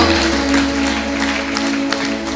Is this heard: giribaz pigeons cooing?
no